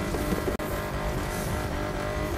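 A Bentley Mulliner Bacalar in the racing game The Crew 2 drives flat out toward top speed on the Salt Flats, its engine a loud, steady broadband roar that holds continuously apart from one brief dropout.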